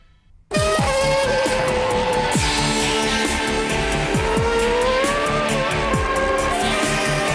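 Karts race past at a demonstration race in Paide, engines buzzing loud and close after a brief quiet start, with repeated passing whines and revs rising and falling continuously.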